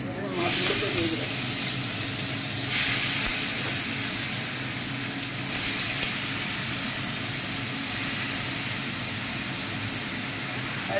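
Fish added to a hot cooking pan with black cumin and green chillies makes a loud, continuous hiss and sizzle that carries on steadily for the whole stretch, close to the ear.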